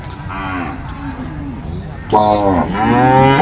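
Cattle at a Thai livestock and buffalo market moo loudly and repeatedly, long drawn-out lowing calls close by, the second half louder, with market background noise underneath.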